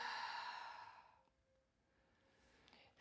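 A long, deep exhale during a morning breathing exercise, a loud breathy rush that fades over about a second, followed by quiet room tone and a faint breath at the end.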